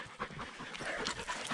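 A dog pants steadily and close by inside an old rock culvert built of big stone slabs and still carrying water, a fast rhythmic breathing heard alone.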